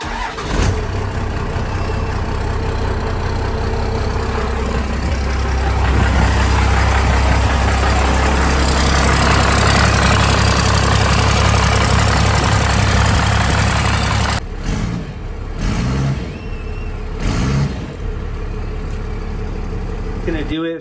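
A 12-valve diesel engine turns over and runs with a loud, steady rumble for about fourteen seconds, then cuts to uneven bursts of revving and sputtering.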